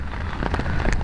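Heavy rain pouring onto a flooded street, a dense continuous patter of drops splashing into standing water, loud and close with no voices.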